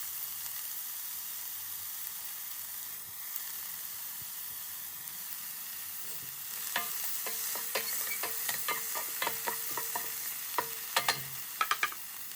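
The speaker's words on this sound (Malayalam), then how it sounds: "എല്ലാ വെജിറ്റബിളും നമുക്ക് ആഡ് ചെയ്ത് കൊടുത്തതിന് ശേഷം ഒരു രണ്ട് മൂന്ന് മിനിറ്റ് ഒന്ന് ഹൈ ഫ്ലെയിമിലിട്ട് ഒന്ന് മിക്സ് ചെയ്തെടുക്കാം" Vegetables stir-fried on high flame for pasta: a soft, steady sizzle that turns into a busy run of sharp clicks and scrapes as a spatula mixes them in the pan.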